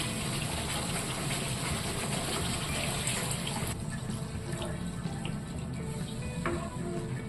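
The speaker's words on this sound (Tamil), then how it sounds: "இப்ப இந்த குழம்புக்கு தேவையான தண்ணி சேர்த்துக்கிடுவோம்." Water pours steadily into a pot of simmering tamarind-based sea bass fish curry, a continuous close splashing gush that eases slightly partway through, with no talking.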